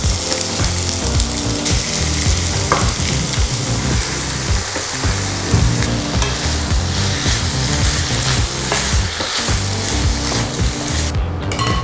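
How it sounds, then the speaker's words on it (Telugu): Chicken frying in a wide kadai for chicken pickle gives a dense, steady sizzle that runs loud and close for the whole stretch, with no talking. "ముందుగా చికెన్ పికిల్ కోసం ఒక వెడల్పాటి కడాయి తీసుకొని దాంట్లో చికెన్ వేసి వేయించుకోవాలి"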